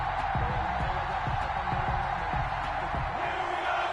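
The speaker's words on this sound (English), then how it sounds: "This crowd is ready as their guys get set to match up" Stadium crowd noise from an EA Sports NFL video game before a Cincinnati Bengals–Pittsburgh Steelers kickoff, a steady roaring wash of cheering with scattered thumps, loud and continuous throughout.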